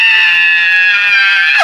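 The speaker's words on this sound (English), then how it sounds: "Screaming in ears." A loud, sustained high-pitched scream from a person shouting right into someone's ear during a laugh-filled Jenga challenge game, holding steady and close for over a second before cutting off abruptly.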